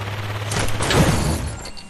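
A loud, close sniper rifle shot in a video game hits as one sharp burst and then rumbles away over roughly a second.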